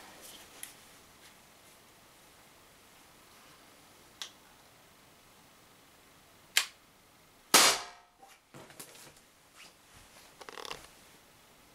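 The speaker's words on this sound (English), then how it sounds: "Shoot at the rear side of the can." Umarex HDR50 air gun firing a polyester slug at a tin can outdoors: a few sparse sharp cracks and a sharp loud snap with a clank, then scattered quieter rustles and knocks.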